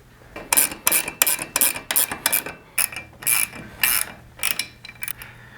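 A ratcheting wrench tightens an off-road light mount on a Jeep, giving a string of close, bright ratchet clicks in short bursts with small pauses between them, and no talking.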